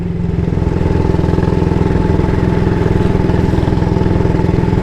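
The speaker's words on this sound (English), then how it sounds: "it's got that traditional British single thumper engine note" A 1938 AJS Model 22 250cc single-cylinder British motorcycle idles loud and close, its steady thumping beat clattering on evenly with no voices.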